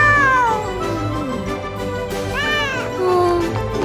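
A cat meows several times in clear, close, melodic calls, with drawn-out rising and falling tones over a bed of background music; no talking is heard.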